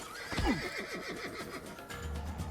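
A horse in Assassin's Creed 2 gives one loud, close whinny with a falling, wavering pitch, followed by clip-clop hooves and game background noise.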